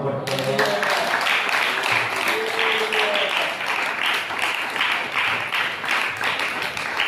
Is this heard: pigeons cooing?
no